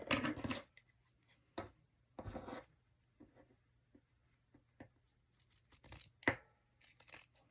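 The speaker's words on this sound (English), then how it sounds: "This fabric is thinner, so it's not so bad to cut." Scissors snip through thin scrap fabric in short, separate bursts of crisp rustling cutting, close and quiet, with pauses between the cuts.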